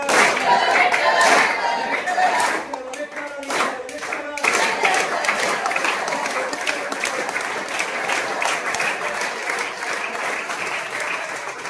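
Loud applause from a crowd of school students fills a lecture hall. Dense clapping peaks early and then settles into a sustained, slightly uneven roar with some chatter mixed in.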